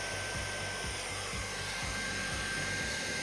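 A hot air welder blows steadily while melting plastic material at an inside corner seam, a constant airy hiss with faint rhythmic low thumps repeating underneath.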